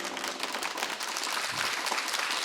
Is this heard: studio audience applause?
yes